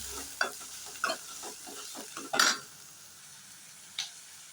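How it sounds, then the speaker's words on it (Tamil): Chopped onions get stirred in a pan of hot oil after mustard seeds have popped, for a bean kara kuzhambu. A steady close sizzle runs throughout, with several sharp spoon scrapes against the pan and no talking. "இப்போ வெட்டி வச்ச வெங்காயம் நல்லா கிளறி விட்டுருங்க"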